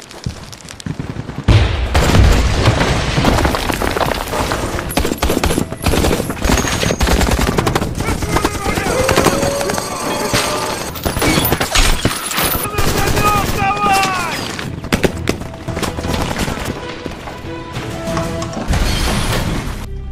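Loud, sustained bursts of rapid machine-gun fire rattle on and on, mixed with booms and crashes in a dense, chaotic firefight in a war film.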